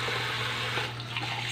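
Water pours steadily into a cooking pan while fish is being prepared, a continuous close rushing splash that lasts the whole moment with no speech over it.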